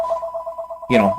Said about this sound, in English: That's the phone, and I'm just going to ignore it